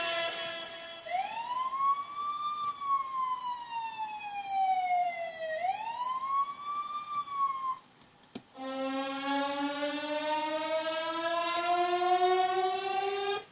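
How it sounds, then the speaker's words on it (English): A loud electronic police siren sound effect wails up and down in slow sweeps, breaks off briefly, then returns as a rapid, high-pitched yelp. "you've got essentials, which is police sirens,"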